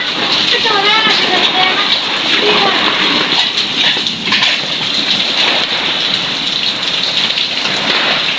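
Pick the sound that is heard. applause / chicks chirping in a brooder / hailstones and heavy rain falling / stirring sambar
hailstones and heavy rain falling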